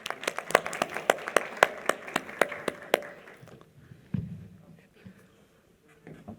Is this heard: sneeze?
no